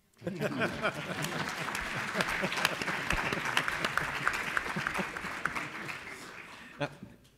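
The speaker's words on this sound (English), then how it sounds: "I'm going to clap for that." Audience applause fills a policy discussion hall on the Middle East, a steady dense patter of clapping that builds quickly, holds evenly for several seconds and tapers off near the end.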